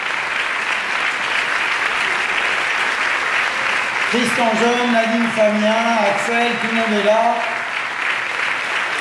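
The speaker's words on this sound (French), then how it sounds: "voici toute l'équipe du Certain Regard qu'on peut applaudir très fort" Sustained, even applause from the audience for the Palais des Festivals team at the Cannes Un Certain Regard closing ceremony, heard throughout while a presenter speaks names over it partway through.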